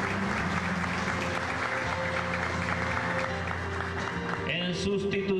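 An audience at a school records-signing ceremony gives sustained, fairly quiet applause throughout, with a voice rising over it near the end.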